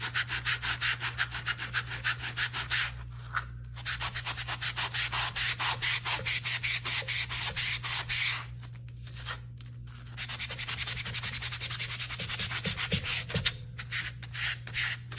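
Rapid back-and-forth strokes of a foam sanding block on paper rasp close by in three long runs, separated by brief pauses.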